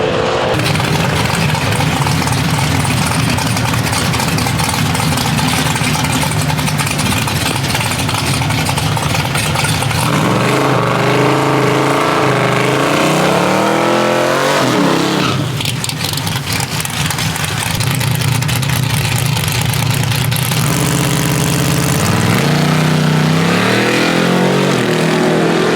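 A car engine idles and revs hard through its exhaust, loud and close throughout, with the engine note rising and falling in bursts of throttle and no voices.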